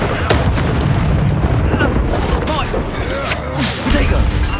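Expulso blasting spell detonating in Hogwarts Legacy, a loud booming burst with rumbling debris inside dense combat noise, layered with shouted character dialogue and other spell effects around it.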